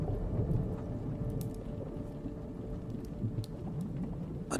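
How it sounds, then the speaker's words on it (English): Thunder rolls low and heavy over steady rain in a medieval night setting, a continuous, moderately loud rumble with the patter of rain throughout and no voices. "thunder crashed overhead"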